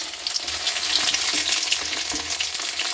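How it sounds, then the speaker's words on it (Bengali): Chopped onion frying in a pan, a loud, dense, steady crackling sizzle that continues throughout without pause. "পেঁয়াজ কুচিটা একটু লাল লাল করে ভেজে নিই"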